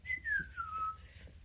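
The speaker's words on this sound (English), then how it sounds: "whistling even a tune is fucking rude" A single person whistles a short, descending melodic phrase, clear and fairly close, with faint low background rumble underneath.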